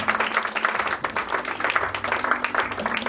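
A church congregation claps steadily and warmly for Jesus at the close of a sermon, sustained applause filling the room throughout at a fairly loud level.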